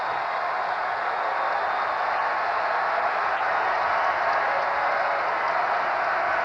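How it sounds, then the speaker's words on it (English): A college basketball crowd at the Smith Center for North Carolina versus Texas roars and applauds in a dense, steady wash of cheering and clapping that holds loud and unbroken throughout. "That gets the crowd roaring its approval right away here at the Smith Center."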